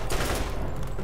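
Gunfire in a remastered Borderlands 1 game, heard as a short, loud burst of continuous rapid shots filling the moment with no talk.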